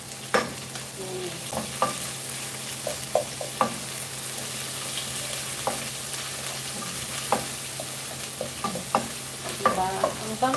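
Onion and garlic fry in a pan with a constant hissing sizzle, punctuated by scattered light scrapes and taps of a utensil stirring, close and steady without speech.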